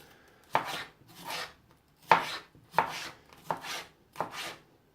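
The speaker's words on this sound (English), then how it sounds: "Cut it like this. Slice it." A knife slicing boiled egg whites on a cutting board: about seven crisp, close cuts, each a sharp tap on the board followed by a soft scrape, at an unhurried, uneven pace with quiet gaps between.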